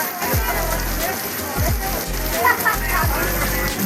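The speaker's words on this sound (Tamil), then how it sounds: "நல்ல மழை பாருங்கள்." Heavy rain pours down in Kodaikanal during a flower show, with a steady close hiss and splatter on surfaces. People talk under the downpour, and low thuds recur now and then.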